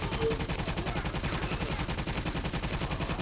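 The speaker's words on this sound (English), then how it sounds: "We should be able to get a barrage here." Rapid, continuous gunfire and artillery barrage in the video game Toy Soldiers, a dense rhythmic rattle of shots that holds steady and loud throughout.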